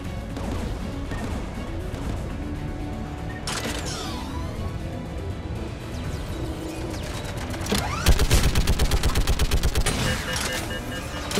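Mass Effect 3 combat: bursts of rapid weapon fire and impacts crackle over a busy battle backdrop, growing into a dense, loud rattling volley toward the end.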